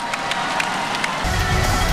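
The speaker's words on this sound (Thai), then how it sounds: "แฟนๆปรบมือให้เลยครับ" A crowd at a Muay Thai fight claps and cheers at a distance, a dense wash of applause that thickens toward the end.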